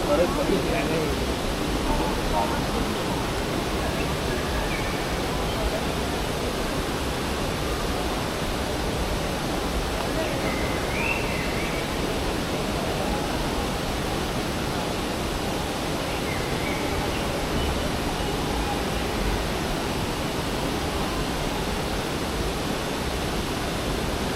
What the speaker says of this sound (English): listen to that water falling